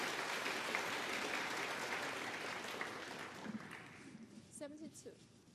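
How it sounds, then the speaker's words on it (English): A snooker crowd at the 2019 Shanghai Masters applauds in a dense, steady wash of clapping that slowly thins and fades, with a commentator's voice coming in near the end. "crowd applauding"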